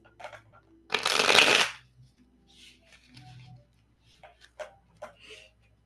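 Tarot cards are shuffled in one loud, dense riffle lasting under a second, followed by softer intermittent card handling, taps and slides, with no talking.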